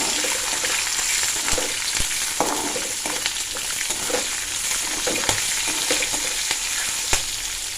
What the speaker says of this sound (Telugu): వేరుశనగకాయలు చిటపటామంటున్నాయి కదా, అలాంటప్పుడు మనం ఎండుమిర్చిని కూడా వేసేసుకోవాలి.